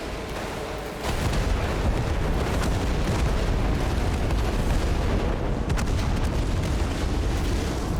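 Rocket artillery firing in the video game Total Conflict: Resistance: a short quiet stretch gives way to a loud, continuous roar of launches and booming blasts that rumbles on to the end.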